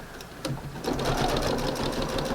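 A sewing machine runs steadily as it stitches outdoor porch fabric, starting with a brief whir and then settling into a continuous, close, moderately loud mechanical hum that lasts to the end.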